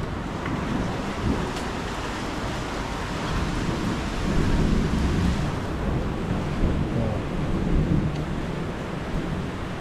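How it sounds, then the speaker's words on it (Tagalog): Heavy rain pours down in Abra in a dense, steady roar, with low rumbling like distant thunder swelling underneath in the middle. "Ang lakas na naman ng ulan."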